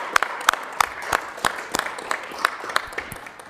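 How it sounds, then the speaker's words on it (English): Attendees at a council meeting give a short round of applause, sparse and fairly quiet with distinct individual claps spaced irregularly over a few seconds. "we'll give you a round of applause"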